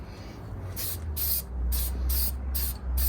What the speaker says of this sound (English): Gotta spray it with the cast aluminum.